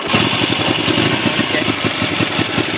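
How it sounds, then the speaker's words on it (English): A 1970 Honda CL350 motorcycle engine runs close by in a loud, steady, rapidly pulsing rumble, heard alone for a few seconds just after starting up. "the bike starts up really quickly and really nicely"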